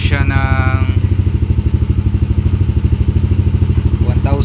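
Yamaha NMAX scooter with a fault that makes it stall while riding, its engine idling close by with a rapid, even putter and clatter, someone talking over it at the start.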